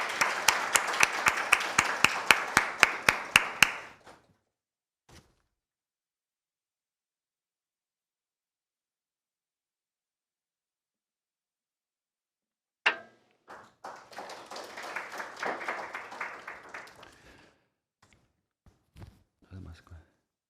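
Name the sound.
audience applause for the speaker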